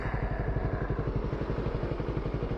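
A Yamaha R3 sport motorcycle engine runs steadily while riding, giving a close, even drone with a fast, regular low-pitched pulsing throughout.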